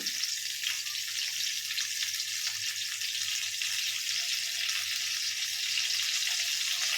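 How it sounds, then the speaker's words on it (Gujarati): Cumin seeds crackle and sizzle in about three spoonfuls of hot oil in a pan on a gas stove, a dense, steady hiss with fine popping that runs continuously and close. "જીરું ક્રેકલ થાય એટલે આપણે એમાં થોડી હિંગ નાખીશું"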